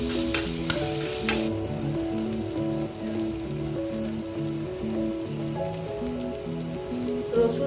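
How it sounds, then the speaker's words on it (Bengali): Garlic frying in hot oil with whole garam masala spices and bay leaves, a steady crackling sizzle with regular stirring scrapes running throughout, close and fairly loud, no voices. "রসুন ভাজা ভাজা হয়ে গেছে।"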